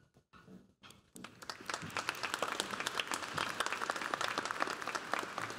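Audience applause for doctoral graduates at a university engineering commencement begins after a short quiet moment and swells into steady, dense clapping from a large crowd in a hall.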